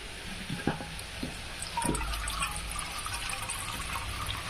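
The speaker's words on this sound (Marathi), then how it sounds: "नळाचं थोडं पाणी घ्यायचं" Running tap water pours and splashes steadily into a bowl, a soft continuous gush after a few clinks.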